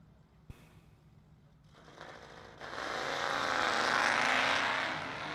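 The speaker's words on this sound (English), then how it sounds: "Lips way out in front in the Hellcat" A Dodge Hellcat on a no-prep street drag strip, its engine rising from a faint start into a loud, sustained roar that builds and holds as it pulls away, with no talk over it.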